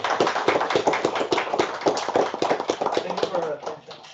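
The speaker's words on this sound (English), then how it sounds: "Let's give a round of applause to the speaker, Luis" Audience applause at a biomedical engineering conference session, a dense run of hand claps that stays loud and steady before tapering off near the end, without any voice over it.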